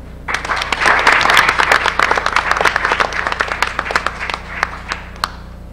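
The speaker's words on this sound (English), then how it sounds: "So if we can get a round of applause for John Young's staff." A school board meeting audience claps for a school's staff, a loud burst of dense applause that peaks early, then thins into scattered claps before fading, with faint talk beneath.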